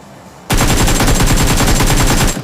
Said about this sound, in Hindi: अब ये मुझसे फायर, तो मैं उसको थोड़ी बहुत फायर देता हूँ।